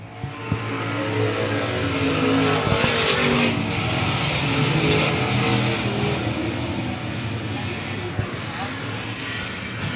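Race cars roaring around South Texas Speedway in a steady, loud engine drone from a pack on track, with a commentator calling the race over it throughout.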